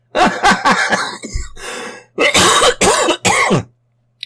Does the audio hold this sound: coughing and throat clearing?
yes